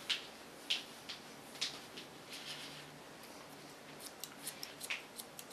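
Scissors snipping through layers of hair during a haircut, a quiet, sparse series of crisp metallic cuts that come faster toward the end, with no talking.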